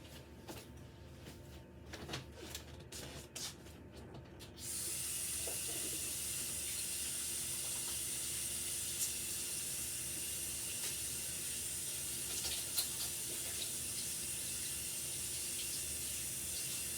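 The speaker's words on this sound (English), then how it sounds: "let me go ahead and wash my hands real quick" Running tap water at a sink while hands are washed, a steady close hiss of flowing water that starts after a few seconds of small handling sounds and continues unbroken.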